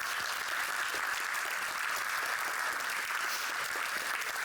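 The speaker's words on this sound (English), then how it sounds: "Please give a warm applause to Cees Buisman" A conference audience applauds a keynote speaker, dense steady clapping filling the hall at full strength throughout.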